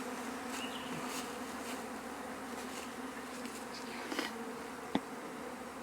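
A honeybee swarm buzzes steadily around a box set on the ground, a dense continuous drone of many bees with a few louder passes close by.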